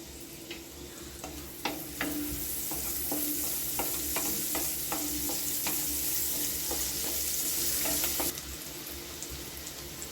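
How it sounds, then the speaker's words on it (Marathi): Onion fries in an oily pan for dhaba-style egg masala, a loud continuous sizzle with a spatula scraping and tapping against the pan in irregular strokes, close up. "कांदा आता चांगला भाजलेला आहे"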